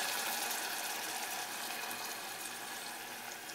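Excess yogurt water is poured into a pot where green chilies are cooking, giving a steady, close liquid pouring and sizzling wash that holds evenly for a few seconds with no talking.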